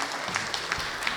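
Applause from a school event audience, a short burst of scattered clapping that sounds fairly distant and faint.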